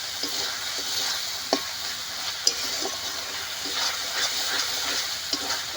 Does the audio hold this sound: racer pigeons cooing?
no